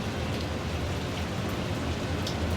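Steady heavy rain falls on a ship leaving port in Scotland's Shetland Islands, a dense even hiss that fills the whole moment without pause or voices.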